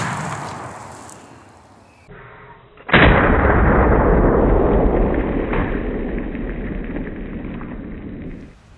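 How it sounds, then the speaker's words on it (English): A Remington Slugger 12 gauge shotgun firing a 3 inch magnum 1 ounce rifled slug: one loud, sharp blast with a long, rolling outdoor decay that fades slowly. "We're obviously working with the shotgun today, specifically in 12 gauge, the Remington Slugger, 1 ounce Magnum rifled slug, 3 inch shells."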